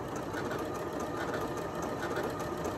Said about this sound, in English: the needle is going around, and that's because it's stitching to do an overcast